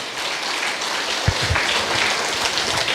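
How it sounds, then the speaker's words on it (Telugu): Loud, dense applause from an audience at a meditation gathering, continuous clapping sustained from start to finish with no voices on top. "ఒకసారి గట్టిగా చప్పట్లు పడదాం రామరెడ్డి గారికి"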